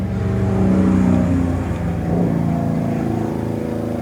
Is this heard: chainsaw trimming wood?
no